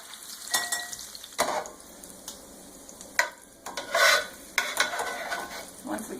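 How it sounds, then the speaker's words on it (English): Utensil scraping and scooping caramelized onions from a pan into a bowl holding bacon, with a faint sizzle as the heat is switched off; bursts of scraping and clinks repeat irregularly, close and moderately loud, with no speech. "Now we're going to pull them off and add them to our bacon in that bowl."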